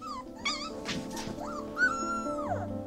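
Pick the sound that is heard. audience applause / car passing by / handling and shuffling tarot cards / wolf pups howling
wolf pups howling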